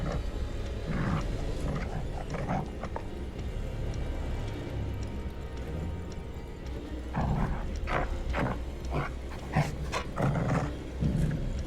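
A dog in the horror video game The Devil in Me barks and growls in heavy, rough bursts against a low rumbling backdrop, the outbursts clustering loudly toward the end.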